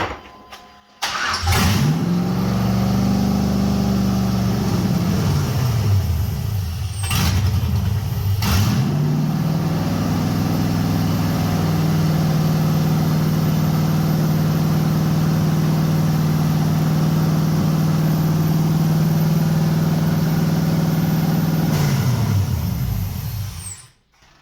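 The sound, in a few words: LS-swapped 1989 Chevy S10 Blazer engine running and idling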